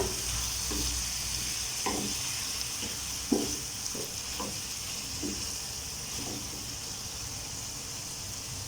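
Tomatoes with a little salt sauté in a pan for tomato chutney, a steady soft sizzle with a series of spoon scrapes and stirs at an even pace, with no voices.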